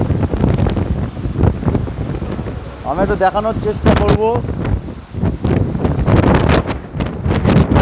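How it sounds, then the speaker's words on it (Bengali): Strong gusts of stormy wind buffet the microphone with heavy rumbling roar throughout, while a person speaks briefly in the middle. "ঝোড়ো হাওয়া দাঁড়ানো কঠিন হয়ে যাচ্ছে"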